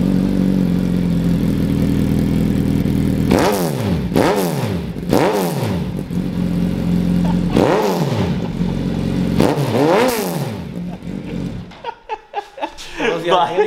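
Carbon-fibre Suzuki Hayabusa motorcycle revving hard through its exhaust, several sharp rising-and-falling throttle blips over a steady rumbling idle, close and loud, then the engine drops away near the end.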